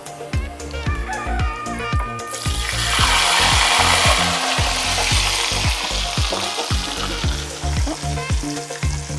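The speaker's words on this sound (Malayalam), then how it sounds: "അപ്പോൾ ഈ എണ്ണയിൽ തന്നെ നമുക്ക് ഉള്ളി മാറ്റിയെടുക്കാം." Four medium onions drop into hot leftover oil with a sudden loud burst of sizzling that keeps bubbling strongly, over a steady rhythmic knocking.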